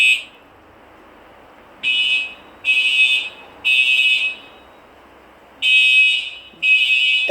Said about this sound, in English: That's the fire alarm sound.